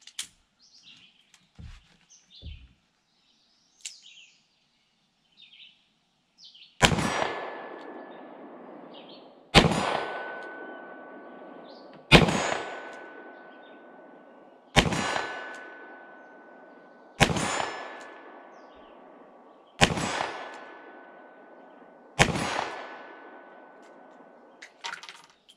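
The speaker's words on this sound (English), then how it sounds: "let's take some shots at that 25-yard plate" Seven sharp metallic clangs from .22 magnum rounds fired from a Smith & Wesson 351 PD pocket revolver striking a steel plate at 25 yards, spaced evenly about two to three seconds apart, each ringing and fading, after a few faint clicks.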